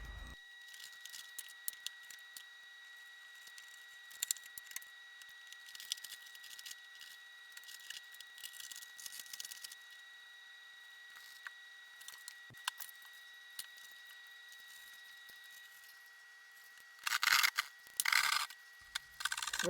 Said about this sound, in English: First, I just need to cut the square hole on the ceiling.